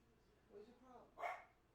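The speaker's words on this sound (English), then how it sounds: "Why is she barking?" A dog gives a short bark, quite faint and brief, following a soft whine in a quiet room, with a person speaking around it.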